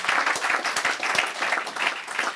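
Sustained applause from a crowd, a dense, loud wash of clapping that swells and dips slightly throughout.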